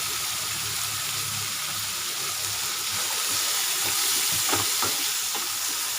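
Asafoetida and turmeric fry in hot oil for a South Indian rice dish, giving a steady close sizzle with a few soft stirring scrapes and no talking.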